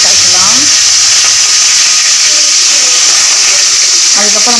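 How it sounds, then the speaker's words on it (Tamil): Curry leaves tempering in hot oil for a garlic curry, a loud continuous sizzling hiss close by, with faint voices briefly at the start and end. "கருவேப்பிலை தாளிக்கலாம்."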